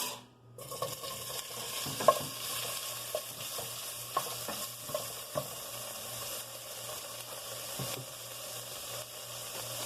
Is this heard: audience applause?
no